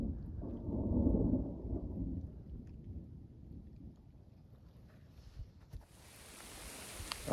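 Thunder rumbles heavily during a severe thunderstorm out in the open, a long low roll that swells early and fades into steady rain, before the hiss of heavier rain or hail rises sharply near the end.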